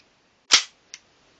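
1911 MkIV full-metal gas blowback airsoft pistol firing, one sharp crack followed by a faint click as the slide cycles, close and isolated in a quiet room.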